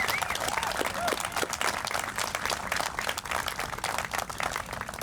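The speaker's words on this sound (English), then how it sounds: "Give a big round of applause to Ed Leafdale for all he does in this community." A Veterans Day audience applauds Michigan's Veteran of the Year, a steady, fairly distant wash of crowd clapping that holds evenly throughout, with a few voices rising faintly above it.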